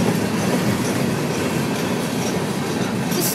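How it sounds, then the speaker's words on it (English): A CSX mixed freight train rolls past at speed in Holland, Michigan, a steady close rumble of railcars and wheels with rhythmic clickety-clack throughout. "This is a normal train."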